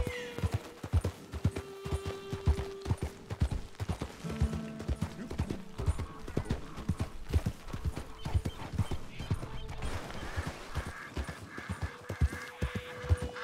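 Horse hooves clop at a walk in the video game Red Dead Redemption 2, a continuous close rhythm with some game music and ambience underneath.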